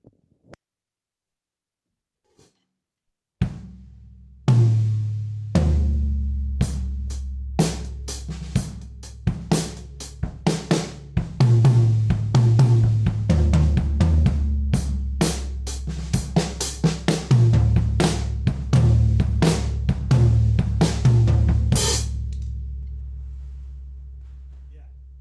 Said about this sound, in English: these are DW drums, of course, and they sound like this